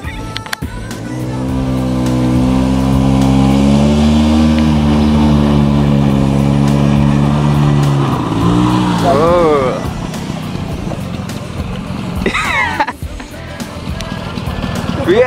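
A Bajaj Chetak scooter's engine hums on a ride, its pitch rising and falling as it speeds up and slows down, loud and close, with people talking over parts of it.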